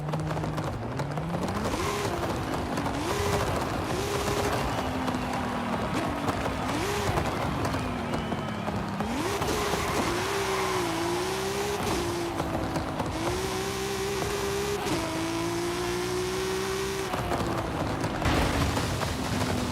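A Toyota Supra drag car in Forza Horizon 5 revs and shifts, its engine note rising and dropping in repeated steps, heard fairly quietly and continuously under a broad background wash.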